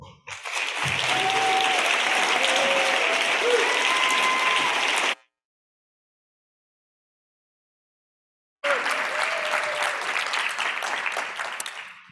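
An audience claps steadily to welcome a speaker onstage at ImpacTalks 2021, a dense burst of applause that cuts to silence midway and then resumes just as loudly.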